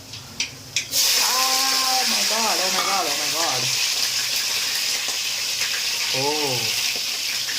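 A raw mango pickle mixture fries in a pan with a constant bright sizzle and spatter that starts abruptly after a few clinks, as someone talks over it intermittently.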